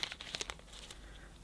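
A 100% recycled plastic bag being handled while opening an advent calendar, giving close, quiet crinkles and rustles in a few quick bursts that fade to a soft background.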